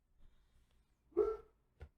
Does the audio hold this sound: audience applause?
no